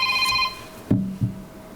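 A telephone rings once with a bright electronic trill, followed by two short low thumps as the handset is handled, heard close in a quiet room.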